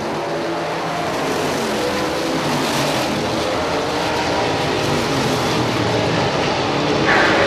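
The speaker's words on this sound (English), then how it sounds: "They're wheel to wheel down the backstretch into 3 and 4." Race cars running wheel to wheel around an oval track, a continuous loud engine roar from several cars that swells slightly as the pack passes, with no voices over it.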